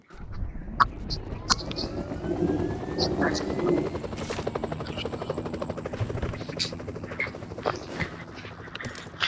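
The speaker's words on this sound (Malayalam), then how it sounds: "ഹെലികോപ്റ്റർ" A helicopter's rotor thumps steadily under game sound effects, with sharp bursts and clicks scattered across it and a shouting voice at times.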